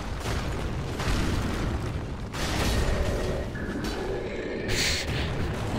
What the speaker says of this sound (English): Oh, I didn't know he was shooting fire.